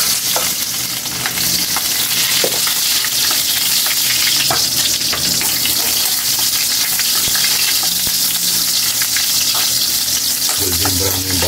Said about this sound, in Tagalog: Golden brown yung bawang natin kaili dahil masyadong mainit yung mantika.